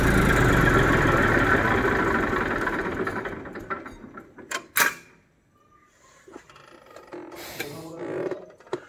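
A Massey Ferguson 241 tractor engine idles with a rough, steady rumble that fades away over a few seconds, followed by scattered clicks, knocks and handling noises in the near quiet.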